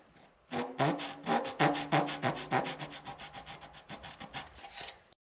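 Hand saw cutting a cope in Craftsman-style wooden base molding for a tiny house: a quick run of about a dozen rhythmic rasping strokes, close and clear, fading slightly toward the end, with no talk.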